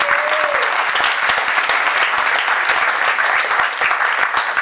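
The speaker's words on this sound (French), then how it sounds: "vous pouvez vous applaudir" An audience at a municipal election campaign meeting in Fréjus claps loudly and steadily, a dense, sustained wave of applause filling the hall, with a brief voice audible at the start.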